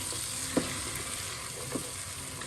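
Tomatoes, peas and potato pieces fry together in a pot, a steady sizzle running throughout with two soft clunks as the mixture is stirred, close by and moderately quiet.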